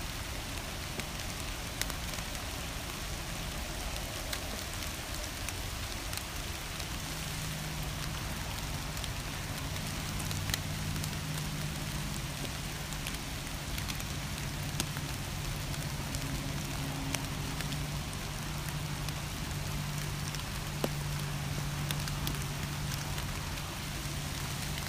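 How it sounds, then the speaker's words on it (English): Steady rain falling, a dense even hiss with scattered drops, continuous and moderately loud, with a low rumble underneath. "It's really raining, huh?"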